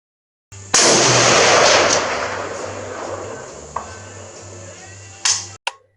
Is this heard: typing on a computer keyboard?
no